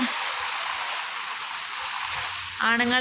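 Heavy monsoon rain in Wayanad hisses steadily and densely, a continuous close wash of drops; a voice begins speaking at the very end.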